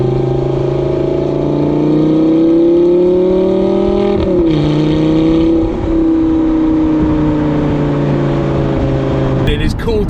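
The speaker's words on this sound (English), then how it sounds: "I think the car sounds like it's working" A car engine revs steadily while driving, loud and close, its pitch rising and dipping with gear changes over a continuous drone.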